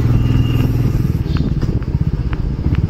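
A motorcycle climbs a steep uphill road toward Chowrasta in Darjeeling, its engine loud and close with a steady throbbing drone and some rattling.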